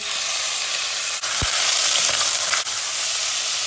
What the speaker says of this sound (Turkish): Tam bu aşamada etimizi boşaltıyoruz.